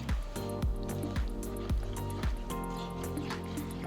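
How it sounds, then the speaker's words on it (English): Rhythmic wet squishing and sloshing as sugar syrup is stirred into a rava semolina burfi mixture in a pan, about eight regular strokes, close and fairly soft. "Now add the sugar syrup into the mixture and mix it all together."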